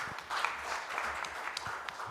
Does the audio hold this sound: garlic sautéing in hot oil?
no